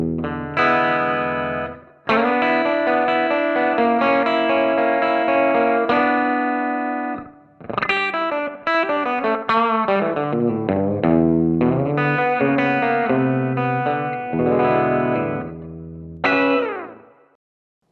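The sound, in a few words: electric guitar through Valeton GP-5 tweed deluxe tone with delay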